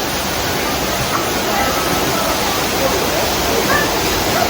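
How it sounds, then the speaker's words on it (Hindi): Steady, dense rush of a waterfall pouring down a mountainside in the UK countryside, a continuous broadband roar that fills the whole clip at close range with no break. "एक क्या ब्यूटीफुल आवाज़ है पानी की।"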